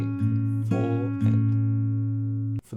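Acoustic guitar fingerpicking: pinched 6th, 4th and 3rd strings ring together, followed by single plucked bass notes in a steady pattern, clear and close with no voices.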